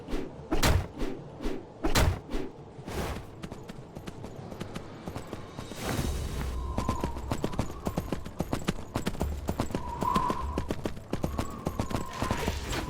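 Rhythmic hoof clip-clops from a horse in the Three Kingdoms Zhao Yun video game, loud thumps at first, then a steady trotting patter with faint tones over a low background.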